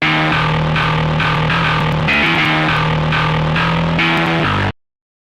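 Virtual eight-string metal guitar in FL Studio with a Fruity Love filter set to distorted low pass grinds through a dense, heavily saturated riff of steady chugs and short note runs, loud and continuous until a sudden stop.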